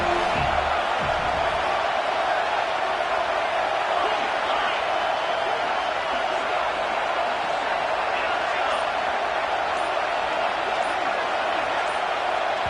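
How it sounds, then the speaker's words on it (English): A stadium crowd at an American football game roars steadily for the defense on third down, a dense and loud wall of noise sustained throughout without breaks. "Decibels rising as the crowd gets behind this defense on third down."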